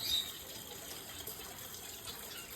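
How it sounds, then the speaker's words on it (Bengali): Water runs from a tap to fill a container, a steady, soft hiss and gush that stays even throughout with no voices. "কেন জলটা দাঁড়িয়ে থেকে ভরে তারপরে বন্ধ করে আসা যায় না"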